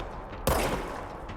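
A single loud, close gunshot from a firearm in the video game Control cracks out and decays quickly into a lingering rumble against low ambient noise.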